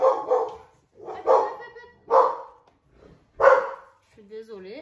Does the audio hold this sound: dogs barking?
yes